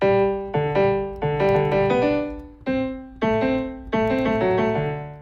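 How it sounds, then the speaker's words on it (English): A piano plays a slow melody over sustained chords, notes struck in phrases with gentle pauses, clear and close with no voices. "If I switch to a piano and play the whole thing"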